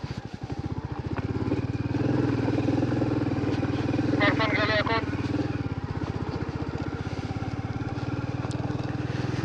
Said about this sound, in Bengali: আমি বাইক নিয়ে যাচ্ছি।